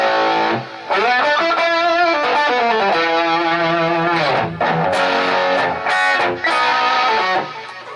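Electric guitar played through an Egnater Tweaker amp with an effect engaged, heard as loud, sustained distorted chords with a few brief breaks, ringing continuously on its own.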